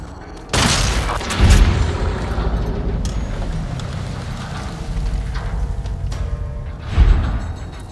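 Gunshots fired at a wall in Fallout: New Vegas, heavy booming reports with one sharp blast early and another near the end over a dense, continuous rumble of game noise.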